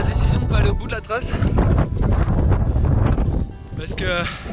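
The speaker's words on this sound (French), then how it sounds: "il y a vraiment beaucoup de vent" Strong wind buffets the microphone on a cliffside running trail in Scotland, a loud continuous roar with gusts, while a person speaks over it.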